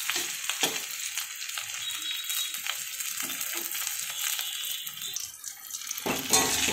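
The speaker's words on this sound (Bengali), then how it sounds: "পেঁয়াজটা ভাজা হয়ে গেছে" Onions sizzle and fry in a pan, a steady close hiss with occasional clinks of a utensil against the pan, growing quieter briefly near the end before a louder stir.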